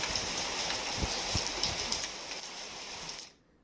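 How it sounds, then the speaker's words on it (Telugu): Heavy rain pours down in Hyderabad, Telangana, making a steady dense hiss with scattered drop taps before it cuts off abruptly near the end. "హైదరాబాద్ తో పాటు తెలంగాణ వ్యాప్తంగా పలుచోట్ల వర్షం పడుతోంది."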